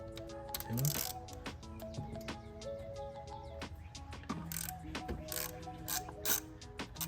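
A ratchet tightens a 10 mm fuel bracket bolt while fitting carbon fiber parts on a Toyota Corolla hatchback, giving a close series of rapid clicking pawl strokes with metallic ringing taps, and a voice briefly in the background.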